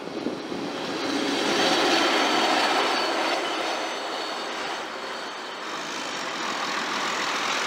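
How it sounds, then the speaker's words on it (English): A hi-rail vehicle rolls past at a rail yard, its steady rumble and rail noise swelling and then easing off over several seconds, close and fairly loud with no talking. "What we have seen is a high rail."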